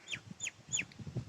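Country chickens in a village give three quick, close clucks, followed by soft scratching and shuffling noises.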